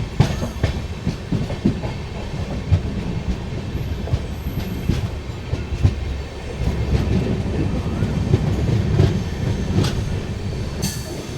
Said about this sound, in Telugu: బయలుదేరిపోయింది మన ట్రైన్.